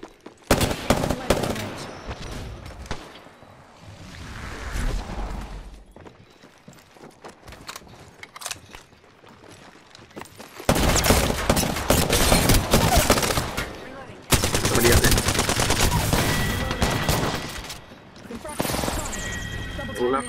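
Rapid automatic gunfire in Apex Legends, with dense bursts of shots and sustained fusillades that start and stop over about twenty seconds, loud and close and mixed with other game noise.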